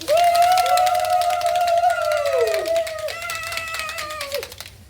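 Small group clapping and cheering for a new executive director at a Fort Washington Estates talk, with a loud sustained whoop over steady hand claps that fade out near the end.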